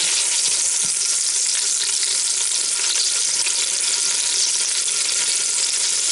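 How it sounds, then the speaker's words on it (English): Filet mignon steak sizzles steadily in an Instant Pot, a dense, loud hiss of frying fat with occasional pops, continuous and without talk. "Okay, that's just begun to sizzle good, so I'll put this other one down in there"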